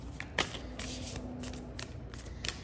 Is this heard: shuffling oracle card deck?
yes